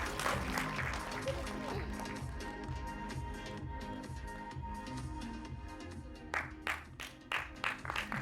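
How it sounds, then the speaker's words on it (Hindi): Applause breaks out for actor Nana Patekar at a film trailer launch event, building through the clip into scattered sharper claps near the end, mixed with music and an announcer's voice over a PA. "नाना सर के लिए जोरदार तालियां हो जाए प्लीज।"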